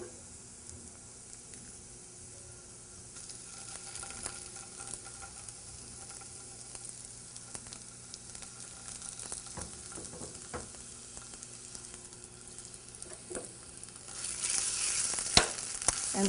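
Tomato paste frying with softened carrots and vegetables in a pan for Ukrainian borsch gives a steady close sizzle with light stirring scrapes, growing louder and crisper toward the end.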